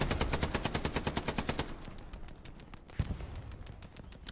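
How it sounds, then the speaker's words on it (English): A machine gun fires in the WWII shooter Hell Let Loose. A long burst of rapid, evenly spaced shots is followed by quieter distant battlefield noise and a single sharp report near the end. "Ah, the lovely sound of an MG."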